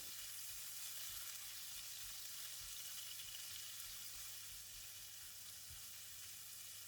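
Minced meat stir-fried in a pan for lo shu fun, a steady faint sizzle with occasional scrapes and knocks of a utensil, no talking.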